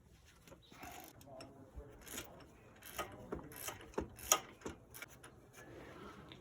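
Faint metallic ratcheting clicks from a wrench loosening the alternator pivot bolt on a 2000 Toyota Sienna, coming in irregular short bursts close to the microphone.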